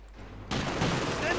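Gunfire and machine gun bursts from a Company of Heroes 2 battle, a sudden dense fusillade that breaks in and keeps rattling steadily.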